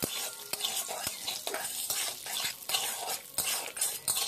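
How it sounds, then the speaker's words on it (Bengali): Cashew nuts fry in ghee in a pan, a steady close sizzle broken by spoon stirring and scraping against the metal, with no talking. "প্রথমে দেখো ঘি দিয়ে কাজুটা দিয়ে দিলাম"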